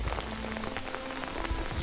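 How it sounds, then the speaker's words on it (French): Hail patters steadily on the surface outdoors during a trout fishing outing, a dense, continuous shower of small impacts with no talking. "Et là on prend de la grêle"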